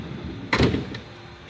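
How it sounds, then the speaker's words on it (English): A camper van's sliding door rolls and thuds shut in one loud, close burst with a short fading rumble, followed by a faint click, with no voices. "check out that sliding door"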